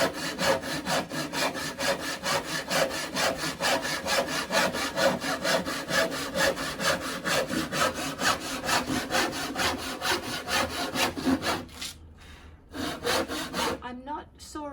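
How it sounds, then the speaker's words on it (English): A hand saw cuts through wood in fast, even back-and-forth strokes, close and loud, pausing briefly near the end before a few more strokes. "I'm just pushing and pulling the saw in the groove that it's made."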